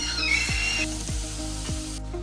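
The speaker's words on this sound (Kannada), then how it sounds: "ಈ ತುಪ್ಪದಲ್ಲಿ ಫ್ರೈ ಮಾಡಿಕೊಂಡ್ರೆ ಫ್ಲೇವರ್ ಚೆನ್ನಾಗಿರುತ್ತೆ." Palak and green chillies fry in ghee with a steady close sizzle, broken by three evenly spaced scraping stirs of the pan.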